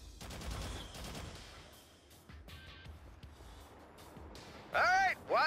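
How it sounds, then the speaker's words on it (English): Gunfire in the shooter game Haze: a burst of rapid automatic shots at the start, then scattered fainter reports, with voices speaking in the scene. "Why is he shooting me?"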